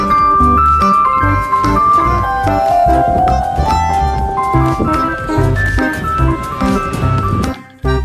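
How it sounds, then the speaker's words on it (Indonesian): A toy ice cream truck plays its loud, cheerful electronic jingle, a busy melodic tune that runs continuously up close before cutting off abruptly at the end. "Yang ini ada mobil es krim."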